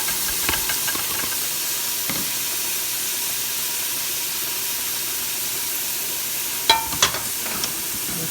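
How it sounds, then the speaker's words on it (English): Onions and red and green bell peppers sautéing in a very hot pot give a steady, even sizzling hiss throughout, with a few faint clinks of utensils against the pot. "Okay, my onions and bell peppers and things are sauteing down."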